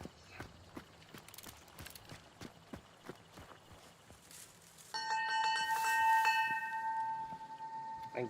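A bell rings in a first-person hunting video game, a bright, sustained metallic tone that starts partway through and rings on, after a run of steady, evenly spaced footstep-like clops.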